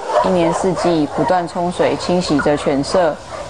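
Dogs in kennel cages barking, a dense, rapid run of close, loud barks and yips, about a dozen overlapping calls in a few seconds with no pauses.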